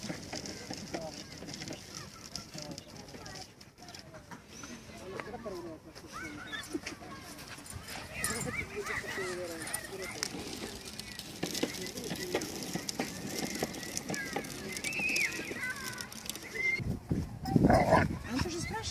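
A small dog whimpers and scuffles about indoors, with soft patter and rustling under almost constant conversation, and a louder flurry of movement near the end.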